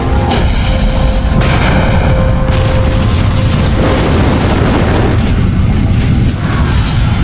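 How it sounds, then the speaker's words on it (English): The Space Shuttle Challenger lifts off on the 25th shuttle mission with a loud, continuous rocket roar. The deep, crackling rumble fills the whole stretch without a break. "And liftoff of the 25th Space Shuttle mission."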